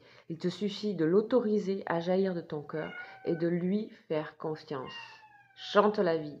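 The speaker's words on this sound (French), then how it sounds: "C'est un chat, je ne vous dis pas." A pet cat meows several times, its calls mixed in under a woman's continuous speech in French, close and fairly clear.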